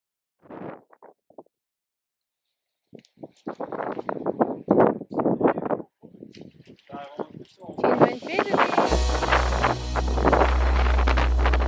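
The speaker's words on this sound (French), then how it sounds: "on a 35 nœuds de vent présentement, un vent de terre" A person talks, then a 35-knot offshore wind at Havre-Saint-Pierre buffets the microphone with a low, roaring rumble that continues under the speech.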